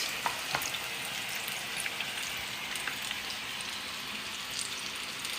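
Apple fritters fry in hot oil, giving a steady, even sizzle with tiny crackles and pops scattered throughout, close by and continuous with no talk.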